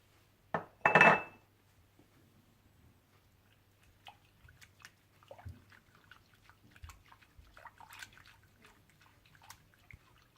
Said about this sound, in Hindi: वनीला एसेंस, नमक और कोको पाउडर डालकर विस्क की मदद से अच्छी तरह से मिला लें।